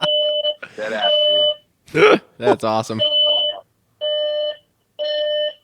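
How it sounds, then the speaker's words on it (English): A hotel fire alarm sounds in repeated loud, steady electronic beeps, first overlapping animated conversation between two men, then ringing alone in evenly spaced bursts. "Oh my gosh, the hotel alarm just went off."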